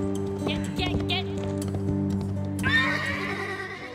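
A horse neighs and its hooves clop at an outdoor fan event for the Heartland series, a high whinny rising over steady clip-clop steps with people talking and a low hum underneath.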